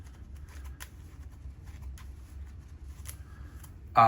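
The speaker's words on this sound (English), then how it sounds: "I'm gonna shuffle up the resource deck." Quiet riffling and soft flicks of a Kingdom Death: Monster resource card deck being shuffled, close and faint, ending in a sudden louder burst.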